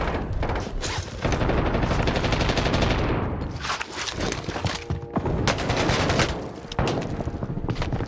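Sustained automatic gunfire in the video game Warzone, loud rapid bursts of shots with brief pauses between volleys and some booming impacts, close and dense.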